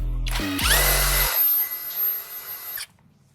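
Power tool whirring briefly as it backs out the Phillips bolts on a Vespa LX facelift air filter box, a loud close burst that winds down and stops near the end.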